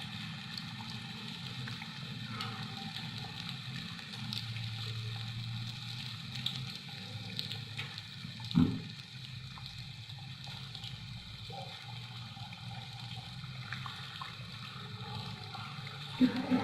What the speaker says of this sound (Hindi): चार से 5 मिनट में हमारी फिश फ्राई होगी